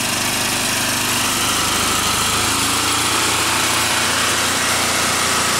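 A small engine fueled by a simple fire charcoal gasifier runs loud and close, a steady high-pitched buzzing drone that holds unchanged throughout with no voices.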